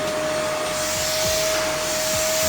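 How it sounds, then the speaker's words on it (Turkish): A vacuum cleaner runs steadily while a child's room is cleaned, a loud, close, continuous motor whine with a constant airy roar and no talk over it. "İlk önce süpürgeyle başlıyor."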